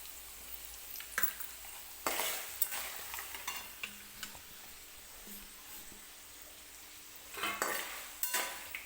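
Spoon stirring asafoetida and turmeric in hot oil in a pan for lemon rice, with soft sizzling under intermittent metallic scrapes and clinks against the pan, close and fairly quiet.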